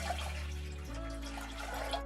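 Two cups of water poured into a pot to start century egg congee, a steady, soft splashing stream that settles into a lower, fuller pour partway through, close by with no talking.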